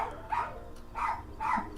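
A dog indoors barking three times in an even rhythm, moderately close, with quiet gaps between barks.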